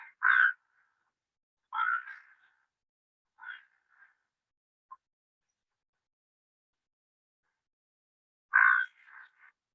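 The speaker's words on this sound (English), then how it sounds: "So here's the white-faced heron." White-faced heron calling, a few harsh, croaking squawks spaced apart with silence between, fairly faint and heard alone.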